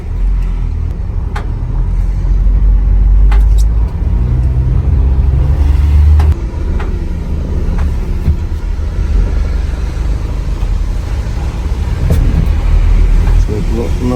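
Cabin sound of a 06/2020 Renault Master L2H2 van with 135,000 km while driving: a loud, steady low engine and road rumble with faint clicks and a voice now and then.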